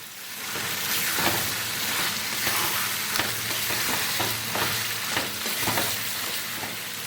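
Ginger, garlic and green chili paste with added tomato paste fries in a pan for chicken khichdi, with a loud, continuous sizzle and repeated scraping stirs, no one talking.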